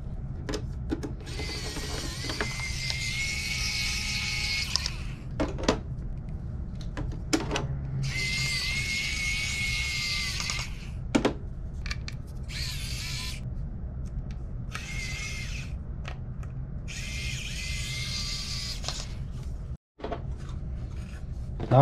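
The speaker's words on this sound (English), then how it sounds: "now we're gonna install the Phillips screws, but we have to switch back, of course, to our Phillips bit and our FastTech Pro Auto Kit" A power screwdriver drives Phillips screws into a PS3 Slim CECH-2001 console with the FastTech Pro Auto Kit, giving several whirring bursts of a few seconds each, close and steady, separated by short quiet gaps.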